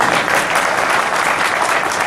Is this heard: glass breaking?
no